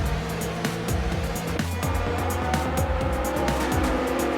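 Formula 1 race cars in the game F1 2019 on the Monaco circuit whine continuously with rapid gear-change stutters and tire squeal, several engines layered close together without speech.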